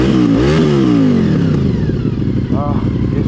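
A Honda VFR 750F motorcycle with a leaking exhaust revs once sharply, its pitch climbing and then falling back to a steady, loud idle. Someone talks over the engine.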